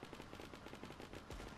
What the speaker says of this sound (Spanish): pero que hay disparos ahí arriba